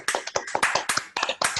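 Several people on a video call clap together, a scattered run of sharp hand claps in quick irregular bursts, fairly close and thin-sounding.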